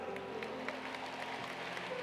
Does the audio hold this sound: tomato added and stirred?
no